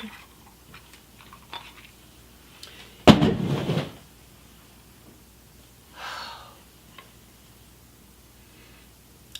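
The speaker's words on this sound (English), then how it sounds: "My Dyson just fell over, and the noise scared me to death" A sudden clattering crash of a Dyson cordless vacuum cleaner toppling onto a hard floor, followed by quiet room noise and a faint rustle a few seconds later.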